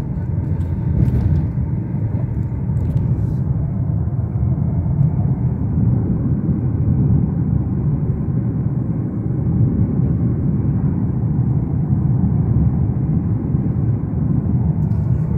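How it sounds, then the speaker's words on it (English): Military jets passing over the vast airplane boneyard in Tucson, Arizona, a steady low engine rumble that fills the air continuously from start to finish. "I just seen two military jets fly over."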